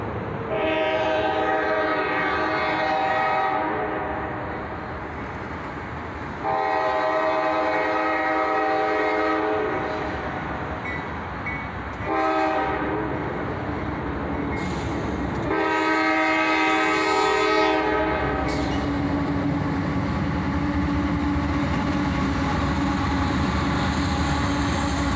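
A northbound freight train hauled by two AC44CW locomotives rumbles past with long, loud horn blasts in repeated bursts, wheels and cars clattering steadily throughout, close by with no talking.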